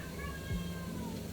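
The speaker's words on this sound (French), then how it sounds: "elle miaule pas mal depuis qu'on est rentré d'Avignon" A house cat meows a drawn-out, wavering call, close and fairly clear, against steady low background noise; no one speaks.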